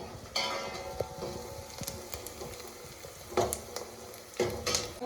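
Asafoetida, cumin, chilli, garlic and onion hitting hot oil in a home kitchen pan, giving a steady low sizzle with sharper crackling bursts and a few clinks of a spoon against the pan.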